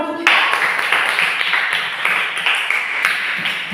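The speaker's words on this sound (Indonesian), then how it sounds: "Tepuk tangan dulu untuk kita." Schoolchildren in a primary classroom clapping together right after a ping, a dense burst of close applause with a few rhythmic surges that carries on for several seconds.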